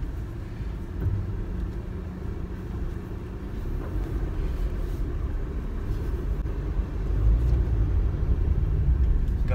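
A 2020 Honda BR-V in black runs while driving, giving a low steady engine and road rumble from inside that swells slightly louder toward the end, with no talking.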